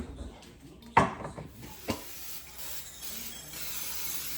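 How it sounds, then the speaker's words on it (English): Cooking spray is sprayed onto a baking pan in two short, hissing bursts about a second apart, fairly close against a quiet room with faint background voices. "I need the spray. Give me the spray."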